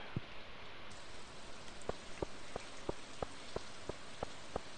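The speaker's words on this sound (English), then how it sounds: "Something about rain is satisfying." Rain falling in the video game Stardew Valley, a steady hiss of rainfall over the whole stretch, with a run of soft, evenly spaced taps in the middle and no talking.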